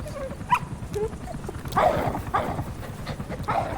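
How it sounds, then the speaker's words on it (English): A puppy barks with short yips in the Metal Gear Solid V: The Phantom Pain video game, several brief barks over a steady low rumble of game ambience. "He's still just a puppy, though."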